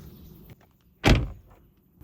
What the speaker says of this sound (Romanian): Ușa se închide.